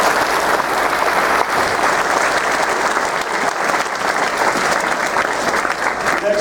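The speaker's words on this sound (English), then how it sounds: "Could you give her a round of applause?" Sustained applause from a large audience at an 8th grade graduation ceremony, steady clapping that fills the whole stretch without pause.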